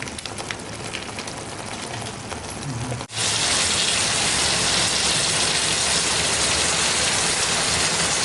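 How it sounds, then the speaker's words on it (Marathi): Heavy rain pouring down outdoors during the monsoon, a dense steady hiss that grows suddenly louder and fuller after a brief break partway through. "मस्त पाऊस पडतो"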